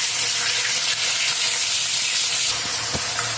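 Bay leaves dropped into hot mustard oil in a kadai, already used for frying fish, give a loud, steady hiss and sizzle close up, with a faint clatter near the end.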